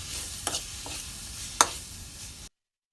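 Tomatoes with salt sizzle softly in a pan while a utensil stirs and scrapes, giving a few light clinks and one sharper knock over a steady frying hiss before it cuts to silence.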